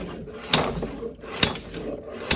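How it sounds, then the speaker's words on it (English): An AutoZone slide hammer puller is jolted while pulling a bearing. Three sharp, close metallic clanks land at roughly even intervals over faint background noise. "with the slide hammer and the impact that this creates, it adds a lot of impact and jolt to the internal part or bearing that you are trying to pull out"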